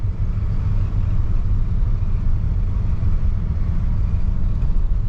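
A 1971 Cadillac Deville cruises at about 60 mph, a loud, constant low engine and road rumble filling the cabin without pause or speech.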